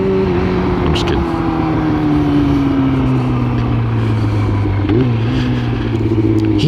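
A motorcycle engine revs in traffic as a rear-end collision looms, a loud, close, droning tone that sags slowly in pitch and then jumps briefly before settling lower again.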